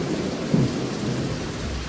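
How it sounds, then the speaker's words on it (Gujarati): Heavy rain pours in a dense, loud, continuous hiss, with a deep thunder rumble rolling underneath throughout. "ફૂલ વરસાદ આવે છે."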